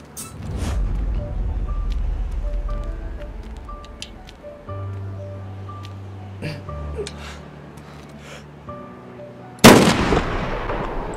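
Gunfire in the survival game DayZ, with a low rumbling shot early on and a sharp, loud crack near the end over steady engine-like background hum, and no talking.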